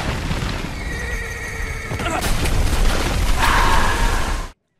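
A horse neighs loudly and whinnies at the foot of Mount Vesuvius, with hoof clatter and a deep rumbling shake from the ground beneath it, the sound cutting off abruptly.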